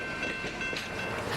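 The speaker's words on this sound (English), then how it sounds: "the train crosses the Tuckaseegee River for a second time before beginning the climb up Ferguson Hill" Locomotive 1702 hauls the Smoky Mountain Express over track near Bryson City, giving a steady, continuous rumble and rolling clatter of train cars throughout, with no voices.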